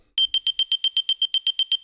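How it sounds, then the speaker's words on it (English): Rapid, evenly spaced electronic beeps at a high pitch, about a dozen in quick succession, loud and close with nothing else audible. "When the light changes, you will hear that faster beep."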